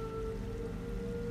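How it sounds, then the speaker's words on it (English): Steady rain falls in a dense, even hiss with no gaps, a constant wash of drops that stays at one level throughout. "Rain falling."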